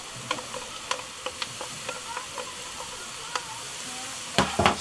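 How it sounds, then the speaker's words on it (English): Garlic sizzles and hisses in a hot pot for chili con carne while a utensil stirs it, with scraping clicks at an uneven pace and a louder clatter near the end, up close and with no talking. "And then shortly after we add our garlic and give it a good stir."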